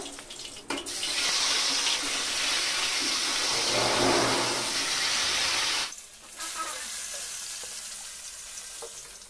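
Pieces of shol fish fry in hot oil with a loud, dense sizzle that swells for several seconds, then drops to a softer, quieter crackle.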